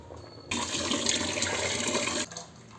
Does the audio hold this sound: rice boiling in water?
yes